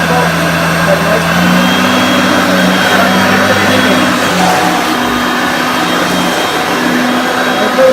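A Hoover Concept One upright vacuum cleaner with automatic power drive and turbo bar runs steadily and loudly throughout, a constant motor drone with a whining tone, while a person talks over it.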